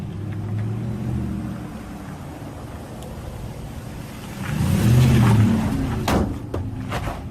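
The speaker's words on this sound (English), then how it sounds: "What you're about to see and hear is a truck leaving the property, which comes close to the auditor who hits it with his hand" A truck pulls away from a property and passes very close to a man who slaps it with his hand; a low engine rumble swells to a louder pass in the middle, then a couple of sharp knocks follow.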